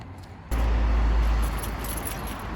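Car keys jangle up close for about a second and then settle, with a steady low background hum and no talking, beside an MK7 Golf fitted with MK7.5 R smoked LED tail lights.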